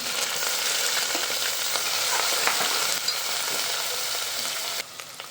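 Onion fries with garlic and ginger in a pan, giving a loud, continuous sizzle with a steady crackling hiss and small stirring sounds, no voices over it.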